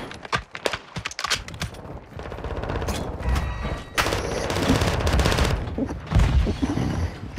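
Rapid bursts of video game gunfire crackle in a ranked shooter match, loud repeated shots clustered in volleys with brief gaps, with no talk over them.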